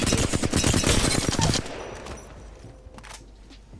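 Rapid automatic gunfire from an Apex Legends weapon fired with recoil control, a dense loud burst for about a second and a half that stops abruptly, leaving quiet game ambience with faint scattered clicks.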